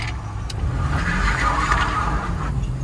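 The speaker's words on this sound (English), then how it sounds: "it'll do a burnout" A 2006 Toyota Sequoia Limited on racing slicks spins its tires in a burnout, with loud close engine roar and a rising whine of rubber over about three seconds.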